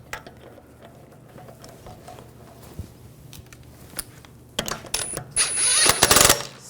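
A lug bolt is tightened on the rear wheel of a 2006-2010 BMW 550i: scattered faint metallic clicks and taps, then a loud close burst of ratcheting tool noise near the end.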